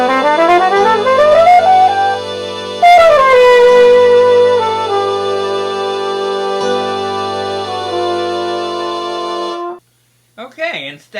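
A sustained, gliding melodic line traces a bebop scale over a G dominant chord with a chromatic passing tone, loud and close, ending abruptly before a short spoken word.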